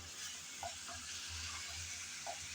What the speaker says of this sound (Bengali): ভালোভাবে নেড়েচেড়ে কিছুক্ষণ সময় নিয়ে করলা আমি কষিয়ে নিলাম।